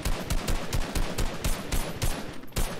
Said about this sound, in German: Erst zielen und dann schießen.